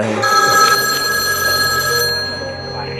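A telephone rings at an exhibit in the National Gandhi Museum, a steady electronic ringing tone that holds for about two seconds before fading, set over busy indoor room noise with a faint voice at the end.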